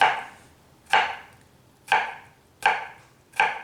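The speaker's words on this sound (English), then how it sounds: "make sure you cut into the slices, make sure you separate it, but don't let these slices go away from the main cucumber." A knife cuts slices into a whole cucumber on a board, five crisp, evenly spaced chops ringing out clearly with quiet pauses between them and no voices.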